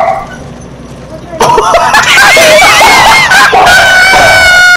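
A person imitates a dog's barking in a loud, chaotic burst over shouting and excited talk during Resident Evil 5 play, with strained, yelping voice sounds dominating after a sudden jump in volume.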